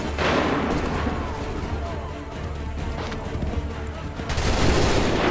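Muskets fire in volleys during a battle in Assassin's Creed 3: a continuous rolling barrage of overlapping gunshots and booms with a low rumble, loud and close, swelling again near the end.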